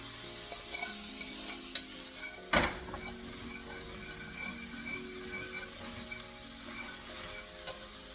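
Chopped red peppers being stirred into a simmering pan mixture for stuffed peppers, with a steady soft sizzle and scattered scraping clicks of the spoon, including one sharp knock near the middle; nobody speaks.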